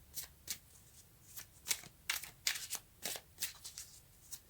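Tarot cards being shuffled during a Sagittarius reading, a close run of quick riffling bursts with brief pauses between them, no talking.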